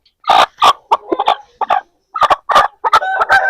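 An Aseel hen clucks and calls in a series of loud, close, sharp bursts with brief gaps between them, no voices over it.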